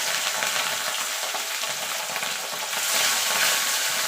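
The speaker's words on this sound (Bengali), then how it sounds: "এবার মাছগুলোকে আমি ভেজে নেব।" Fish sizzles in a little salted oil in a wok, giving a continuous crackling fry that is loud and close, steady throughout with no voices.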